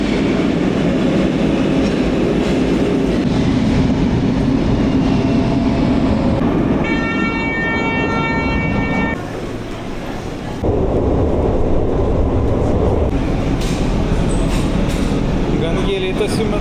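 A Lisbon metro train rumbles along the tracks with a loud, continuous roar, a brief high electric whine mid-run and a short dip as it slows before surging again, with occasional voices nearby.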